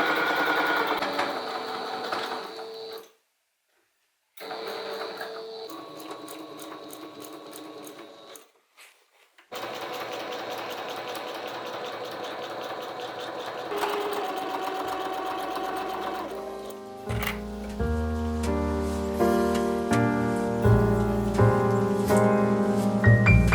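Sewing machine stitching a small bag from a cushion cover, running in steady loud whirring bursts with two brief pauses, then a faster rattling run toward the end, close up.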